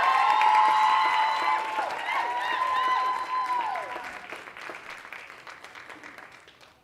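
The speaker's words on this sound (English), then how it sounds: "please give a big round of applause for The Groove." A talent show audience breaks into loud applause and cheering that swells at first and then slowly fades, steady clapping filling the hall with a few whoops on top.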